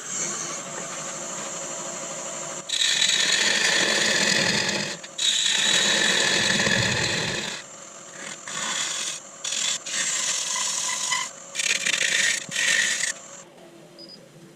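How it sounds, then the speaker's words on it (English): A gouge facing off a troublesome piece of elm spinning on a wood lathe, giving a loud, steady scraping hiss in several long bursts broken by short pauses as the tool is lifted and reapplied, with no voices. "Let's just face off that bit as well."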